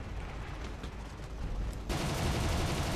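Aircraft cannon fire in War Thunder gameplay from a Ju-87 D-5 dive bomber, a dense continuous roar of rapid shots that grows louder and harsher partway through, with no voices over it.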